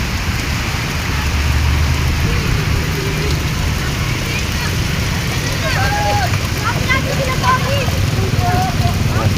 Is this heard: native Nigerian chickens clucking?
no